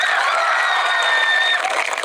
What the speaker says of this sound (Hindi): एक ताली इस सक्सेस के नाम पर बजाइए, और वो सबसे बड़ी ताली होगी